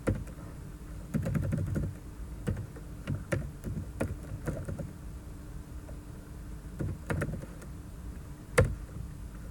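Typing on a computer keyboard to enter a file path in a command, with clustered clicks and a few louder single keystrokes, close and alone with no talk.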